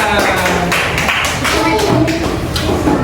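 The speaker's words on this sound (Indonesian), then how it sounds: "Tepuk tangan untuk semuanya." A class of schoolchildren clapping hands together after a lesson exercise, loud and close, a rapid mass of claps with children's voices mixed in.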